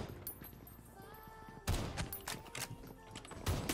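Gunfire from a weapon in PUBG Mobile, a quiet stretch broken by a loud burst of shots that carries on in uneven bursts, with a voice talking faintly underneath.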